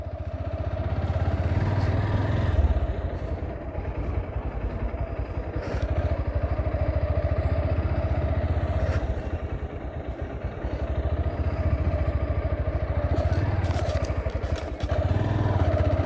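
Continuous motorcycle engine drone while riding on the road from Dhaka toward Fanda Valley via Susong Durgapur, steady and close, with occasional rattles and scrapes over the road.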